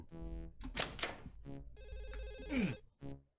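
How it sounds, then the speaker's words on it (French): A telephone rings in the video game Mayhem Mansion, quiet and somewhat distant, with a steady electronic ring layered over muffled game sounds and short music-like tones. "Il y a un téléphone qui sonne quelque part."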